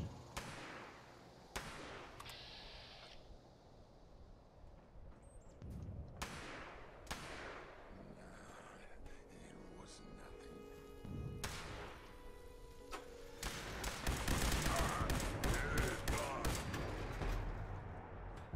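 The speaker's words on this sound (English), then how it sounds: "What are these guys shooting? Is he the one shooting?" Gunfire from other players in Fallout 76: scattered sharp shots and thuds at uneven intervals, some distant and some closer, thickening into a busier, louder stretch of shooting near the end over steady game ambience.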